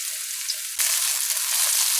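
Onions drop into hot oil for fried rice, and a steady hiss jumps abruptly into a louder, brighter sizzle that keeps crackling close by; no speech.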